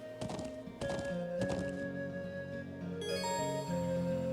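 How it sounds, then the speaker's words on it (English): A horse gallops in a video game as it is ridden, with a few heavy clip-clopping hoofbeats at the start and steady game tones and music carrying on afterward. "We get to actually ride the horse!"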